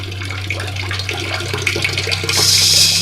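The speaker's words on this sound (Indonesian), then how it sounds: "suara keran air terbuka dari tempat wudhu mengagetkan kami." A water tap at a prayer room's ablution area runs steadily, a continuous splashing rush that grows brighter and louder near the end.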